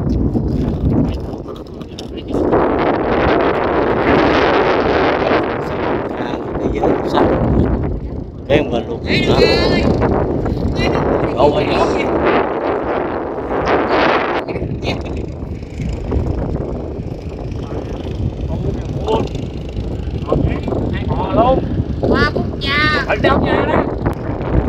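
Strong storm wind buffeting the microphone while out on flood water, a loud, continuous roar with gusts, with a person talking over it throughout.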